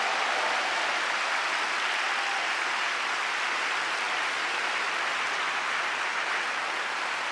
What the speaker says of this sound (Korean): 이렇게 지켜주신 우리 하나님께 감사와 영광의 박수를 올려드리면 좋겠습니다.